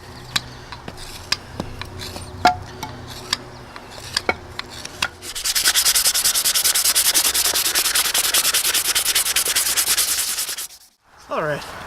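Steady rasping wood scraping from chipping away at a workpiece with a crooked knife (mocotaugan), starting as scattered sharp taps and scrapes, then a dense continuous close scraping for several seconds before stopping, with a brief sound at the end.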